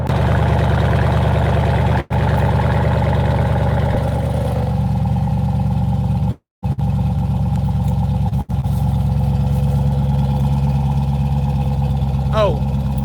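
A Dodge Durango SRT engine idles with its exhaust valves closed, a steady low rumble held throughout with brief cuts, while a person talks over it.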